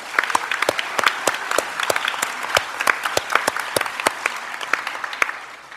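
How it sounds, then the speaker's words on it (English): An audience at a school board meeting gives a round of applause for high school floral design students, producing loud, sharp, closely spaced claps that ring out steadily before tapering off near the end. "Let's give them a round of applause, if you will."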